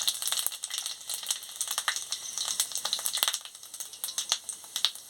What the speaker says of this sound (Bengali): তেল গরম হয়ে গেছে, 5 ফোড়ন আর শুকনো লঙ্কাটা দিয়ে দিচ্ছি।